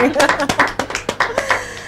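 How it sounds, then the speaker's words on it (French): Congregation clapping for the Lord during a French-language Christian service, a quick run of sharp rhythmic claps with voices talking over them. "On applaudit le Seigneur."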